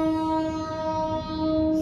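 A local train arriving at a level crossing sounds a loud, sustained horn blast, steady and close, under a low rumble of the railway.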